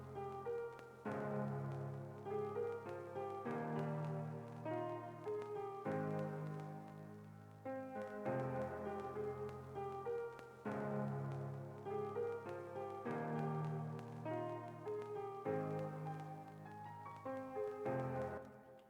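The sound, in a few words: layered piano melody with vintage crackling effect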